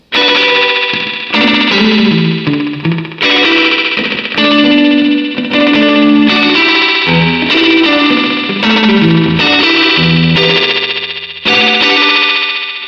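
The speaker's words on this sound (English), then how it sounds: "listen to what it sounds like as we increase the echo volume" Distorted electric guitar chords ring out through a Roland RE-201 Space Echo tape echo at raised echo volume, each strum trailing into loud, repeating decays that pile up over several seconds.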